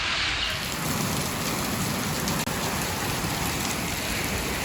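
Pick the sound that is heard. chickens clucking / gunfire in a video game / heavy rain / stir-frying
heavy rain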